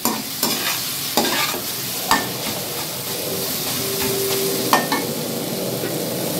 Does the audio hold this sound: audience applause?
no